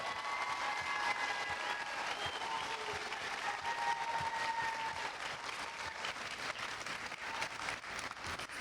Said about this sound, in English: I want to clap one more time just for these amazing student athletes we have sitting around us